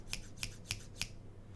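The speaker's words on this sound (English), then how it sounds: "these scissors, these are pretty cool." Nakabayashi stainless steel scissors snap shut four times, crisp and close, at an even pace of roughly one cut every third of a second, with no voices around them.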